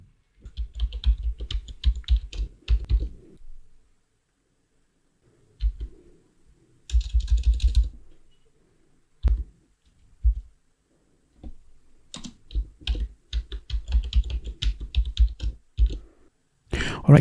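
A password is typed on a computer keyboard in close, rapid bursts of key clicks, broken by pauses and a few isolated presses.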